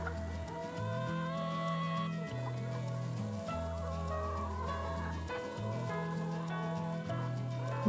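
Hens cluck and murmur continuously nearby, a busy, steady chatter of several birds with no talking.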